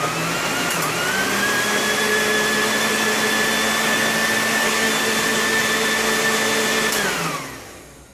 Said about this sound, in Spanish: Ahora lo vamos a licuar.